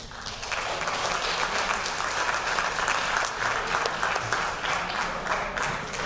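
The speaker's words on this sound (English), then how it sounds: "one more round of applause for the boys varsity soccer team and Coach Pereira" Crowd at a fall athletic banquet clapping for the boys varsity soccer team, a sustained, even roar of applause from many people, loud and continuous throughout with no voices standing out.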